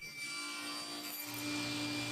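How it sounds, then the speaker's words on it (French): A table saw whines steadily through plywood, rising slightly in pitch as the cut finishes, with no talking. "D'abord, je coupe un bord propre sur la pièce au banc de scie."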